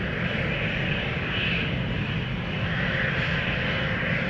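Jet airliners taxiing at Amsterdam Schiphol toward the Polderbaan runway, including a Nippon Cargo freighter, a loud continuous engine roar and whine, steady and close, with no other sounds breaking through.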